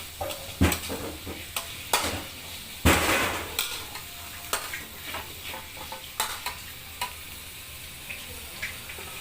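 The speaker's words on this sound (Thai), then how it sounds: "ไปจะต้องผัดไปเรื่อยๆคลุกเคล้ามันเข้ากับพริกแกง" Basil pork stir-fried with curry paste and sugar, sauce and oyster sauce in a pan over a charcoal stove, with sharp metal spatula scrapes and clanks against the pan at an irregular pace over a low sizzle, close and fairly loud.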